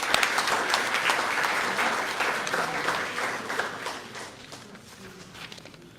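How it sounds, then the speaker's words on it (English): Audience applause at a Hall of Fame awards ceremony during an annual general meeting, a loud, sustained wash of many hands clapping that gradually thins and fades toward the end. "Ladies and gentlemen, a huge round of applause for Hashim Amla."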